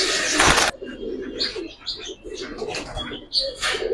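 A loft pigeon, a Giribaz breed, is released with a loud burst of flapping wings, followed by soft cooing and scattered bird chirps amid light background noise.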